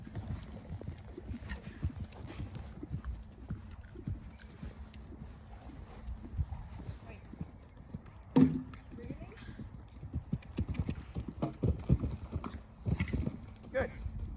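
A horse canters through a riding lesson, its hoofbeats thudding in a quick rhythmic clip-clop at moderate distance, with a heavier thump partway through and faint background noise.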